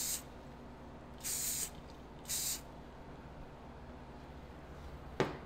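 Hairspray from an aerosol can sprayed onto a gymnast's hair bun, two short hissing bursts of about half a second each with a pause between, close and fairly quiet, followed by a brief sharp click near the end.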